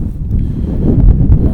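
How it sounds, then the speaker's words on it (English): Strong wind buffets the microphone on the Nullarbor Plain at the Great Australian Bight in a continuous low rumble, with gusts swelling louder toward the end. "It is very windy, as you can probably hear"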